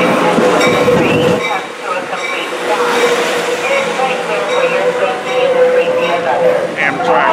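An Amtrak train pulls into Fullerton station, a steady loud rumble of rail cars and wheels with a sustained tonal hum, close by, with people talking faintly underneath.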